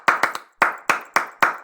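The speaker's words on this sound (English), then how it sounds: "So I'm going to clap it and see if you can't figure out how it sounds." Hands clap out the rhythm of the first movement of Pergolesi's Sinfonia, a tight triple cluster followed by four evenly spaced claps, close and crisp with no talking.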